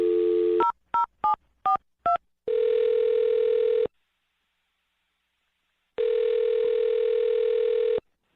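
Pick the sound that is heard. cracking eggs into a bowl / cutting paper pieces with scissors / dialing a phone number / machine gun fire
dialing a phone number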